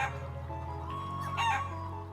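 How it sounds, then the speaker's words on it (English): Chickens in a farmyard area of the video game The Legend of Heroes: Trails of Cold Steel II, a rooster crowing loudly over steady clucking fowl with game ambience beneath, close and clear. "So, hello, chickens."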